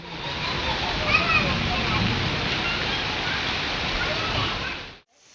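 Continuous heavy monsoon downpour in Saurashtra, Gujarat, with water splashing and flowing over city streets, a loud even wash of noise that cuts off abruptly near the end.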